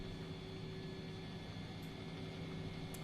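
An aircraft engine runs in the X-Plane 10 flight simulator as engine 1 starts up. It makes a steady, even drone with a faint whine layered over a broad rushing noise, and it stays level throughout.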